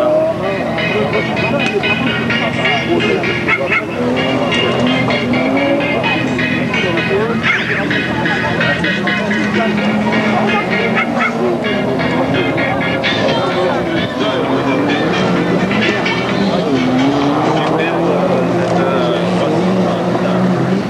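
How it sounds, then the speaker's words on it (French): Turbocharged cars in a 1998 national auto-cross drift event at Bellegarde, France, engines roaring continuously as they pass, a steady loud mechanical drone with shifting pitch and no clear pauses. "Et là, ce sont des caisses de turbo avec des moteurs turbo."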